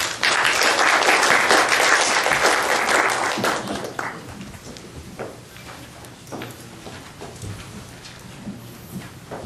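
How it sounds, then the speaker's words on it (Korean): Audience applause welcoming a professor to the stage at a public forum, a dense burst of clapping that starts loud and tapers off over several seconds into scattered claps and room noise. "박수로 맞이해 주세요."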